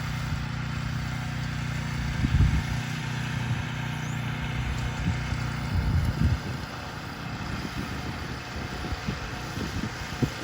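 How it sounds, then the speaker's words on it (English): A garden tiller's engine runs steadily at a distance, a low rumbling drone mixed with breezy wind and occasional thumps as it works the soil on a humid, windy day. "that's my brother Jeffrey running the tiller."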